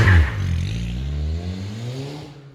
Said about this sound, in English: how the car runs and sounds before the induction kit